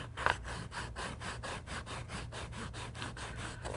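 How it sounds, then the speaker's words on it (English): Medium 100 grit sandpaper is rubbed back and forth on a wooden dragster body, a steady, soft, rhythmic rasp of even strokes at close range, with no talking. "Just pass the sandpaper back and forth across the dragster body where you want to take some wood off."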